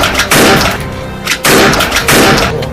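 Shotgun blasts while duck hunting on a river, three very loud, close booming shots spaced about a second apart, each with a long rolling tail.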